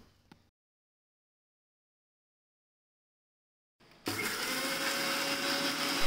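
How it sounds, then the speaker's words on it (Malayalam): A mixer grinder jar grinds roasted coconut for a jackfruit seed curry, starting abruptly after about four seconds of near silence and running loud and continuous to the end. "അതിനുവേണ്ടി തേങ്ങ 1 മിക്സിയുടെ ജാറിലിട്ട് നന്നായി അരച്ചെടുക്കാം"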